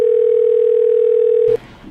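A steady telephone dial tone holds loud and unbroken for about a second and a half, then cuts off abruptly, leaving faint room noise.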